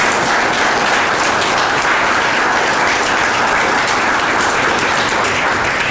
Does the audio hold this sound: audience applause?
yes